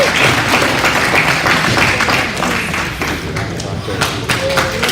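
At a cattle show, an arena crowd claps for young exhibitors, loud and close, with thumps and taps from the ring mixed into the applause and talk running beneath it.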